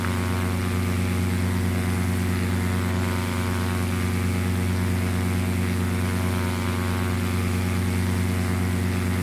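Single-engine Cessna in a flight simulator climbing out, a loud steady propeller drone with constant tonal hum and no letup.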